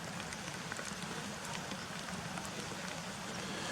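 Steady light rain falls outdoors near the Cautley Spout waterfall, a continuous soft hiss of drops throughout with no voices.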